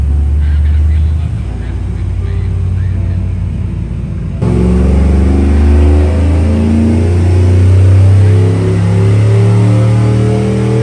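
A camshaft-equipped Chevrolet Silverado pickup's engine drones and climbs in a loud, sustained pull on a dynamometer, the low engine tone shifting upward partway through and holding at high revs.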